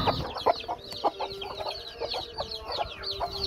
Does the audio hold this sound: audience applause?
no